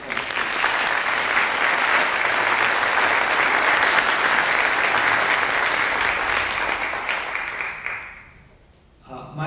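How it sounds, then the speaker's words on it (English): An audience at a school band concert claps steadily in a full round of applause for the principal and assistant principal, dense and sustained before tapering off near the end. "If we could give them a round of applause."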